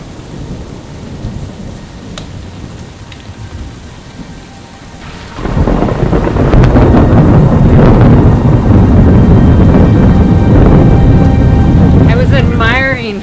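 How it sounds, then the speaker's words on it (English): A thunderstorm over a boat at anchor beside an island: rumbling thunder, then heavy rain abruptly pours down hard and close, drumming on surfaces with gusting wind. "I was admiring how gorgeous the thunderstorm was, and then it started to rain."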